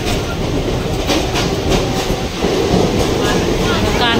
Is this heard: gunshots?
no